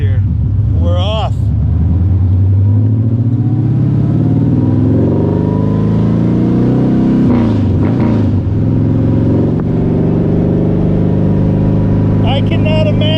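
A loud engine drones and revs up as a vintage racing car, an Aston Martin DB2 or Allard J2, pulls away, with a voice talking over the steady roar.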